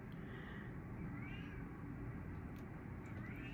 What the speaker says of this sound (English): My cat Lucky is meowing at my bedroom door. He wants to come in